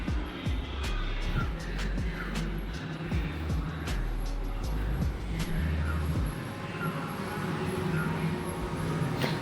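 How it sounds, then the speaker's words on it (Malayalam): A car is driven along a road, its engine and tyre noise a steady, moderately quiet rumble with passing whooshes and occasional clicks and knocks throughout. "ചേട്ടനാണ് വണ്ടി ഓടിക്കുന്നത്."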